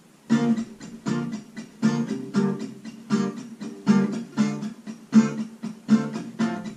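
Acoustic guitar strummed in a steady worship-song verse pattern, repeated rhythmic chord strokes with clear attacks, moderately quiet and close, no voice.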